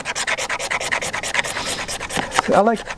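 A blade scrapes a magnesium fire starter block in rapid repeated rasping strokes, close and loud, with a few sharper scrapes and a brief tonal squeak near the end.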